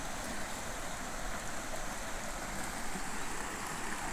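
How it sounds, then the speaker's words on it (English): A small creek flows beneath a wooden hiking bridge in a North Carolina state forest, a soft, steady broadband rush of water with no breaks, heard from a moderate distance and fairly quiet. "Nice little creek."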